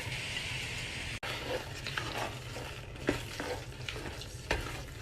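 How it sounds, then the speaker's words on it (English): Fresh coriander being stirred into a pot of five bean chilli, with a soft sizzle and wet scraping strokes, plus a brief knock near the start and a few clicks later. "I'll turn the heat off and mix in this coriander"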